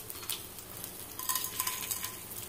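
Five garlic cloves and two dried red chillies sizzle in hot oil for a tempering, with a steady fry broken by stirring and a faint clink of utensils.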